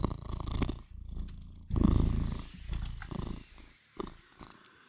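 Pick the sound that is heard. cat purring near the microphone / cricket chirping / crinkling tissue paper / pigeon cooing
cat purring near the microphone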